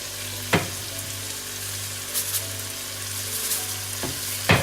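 Maggi seasoning and spices fry in an egusi soup pot with a steady, low hiss and sizzle, broken by a few sharp scraping stirs at the start and end.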